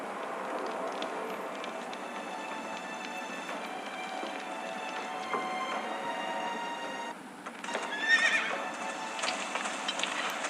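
Horse neighing with hooves in a Game of Thrones video game scene, a sustained whinny-like texture over steady clip-clop, with a brief dip and then a sharper squeal near the end.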